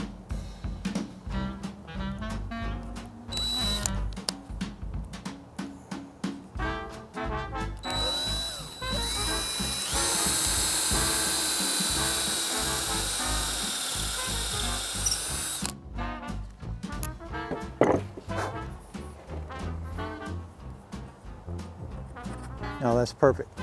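Power drill boring a hole with a drill bit, whirring in long continuous runs with a steady high whine, while a voice talks over and between the bursts.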